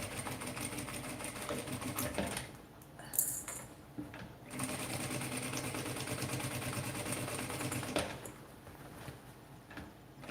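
A sewing machine stitching the last seam of a small patchwork handbag, a fast, steady mechanical whir running close and continuous, with a couple of brief pauses and clicks.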